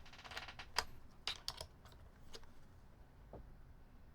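Typing on a mechanical keyboard with GMK keycaps, sparse clacky keystrokes up close, a quick cluster near the start and then a few isolated presses against quiet background.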